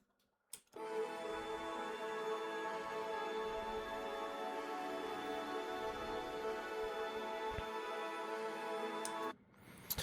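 Layered ambient textures from a progressive house track's breakdown, a soft sustained wash of tonal hum and faint ticking that fades in after a short click and cuts off near the end, with no voices.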